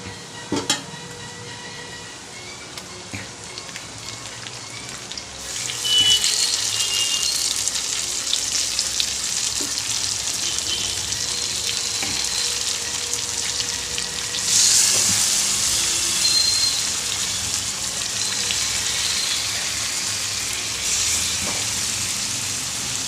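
Raw katla fish coated in spice marinade hits hot oil with browned onions, bursting into a loud, steady sizzle after a quieter start, with occasional stirring clinks.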